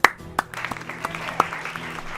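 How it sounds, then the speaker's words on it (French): A crowd claps in brisk, uneven applause that stays steady throughout, with a few sharper individual claps standing out. "Ils applaudissent."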